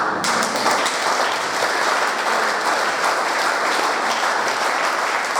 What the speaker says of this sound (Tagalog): Halatayan sa palakpak!